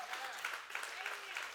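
Audience applause during a church sermon: a rough, steady patter of clapping hands that lasts the whole moment, mixed with a speaking voice.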